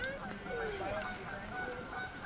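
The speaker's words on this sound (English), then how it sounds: "A goose." Geese honking in flight low over water, a few rising and falling calls over outdoor noise, with people talking nearby.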